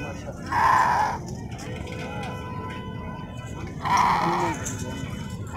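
A goat at a crowded livestock market in Hyderabad lets out two loud, drawn-out bleats a few seconds apart, close by, over a steady murmur of crowd noise.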